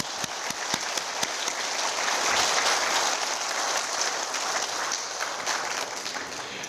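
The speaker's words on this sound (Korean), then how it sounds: "서로 인사하고 박수 한번 치고 시작할까요?" A seated audience at an investment seminar claps together, with a few separate claps at the start that build into sustained, fairly loud applause before easing slightly near the end.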